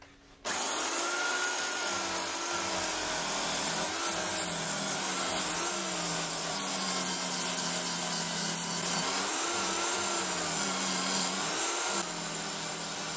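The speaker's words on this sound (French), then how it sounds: "donc pour gagner du temps, j'essaye la ponceuse à mini-bande." Mini belt sander working wood for a trike cart, a loud continuous whining drone that starts abruptly and runs steadily, with the pitch dipping briefly under load several times.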